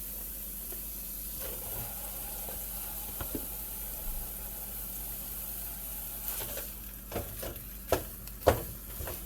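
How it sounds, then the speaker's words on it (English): Ground meat browns in a pan with a faint, steady sizzle, while a utensil breaks it up with scraping taps that grow more frequent and louder toward the end. "I'm going to go ahead and start browning my meat"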